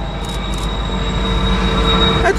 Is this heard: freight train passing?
yes